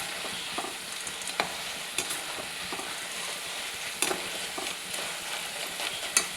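Jackfruit chips frying in hot oil with salt and turmeric water added, producing a continuous sizzle and bubbling with sharp bursts and stirring clatter, close up and without speech.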